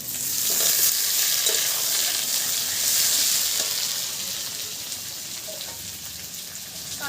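Mud crabs fry with taro being added to the pan, giving a loud, steady hiss and sizzle with faint stirring clatter throughout.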